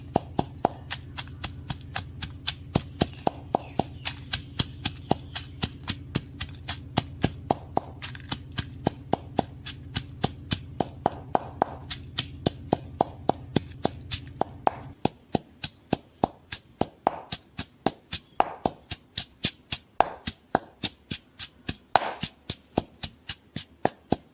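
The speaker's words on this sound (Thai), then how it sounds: "ตำเจ้าตำโขลกแหลกเลยเนาะ" Shallots pounded in a mortar with a pestle for a sour bamboo shoot and pork curry, a long run of steady, evenly spaced thuds at a brisk rhythm, close and distinct, with a low background hum that drops out partway.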